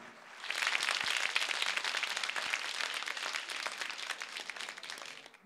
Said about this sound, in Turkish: Kendisi kendisine bir alkış istiyorum ben.